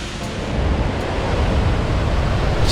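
A steady, broad roar of rushing water from an Italian Alpine waterfall fills the clip, loud and continuous with no voices.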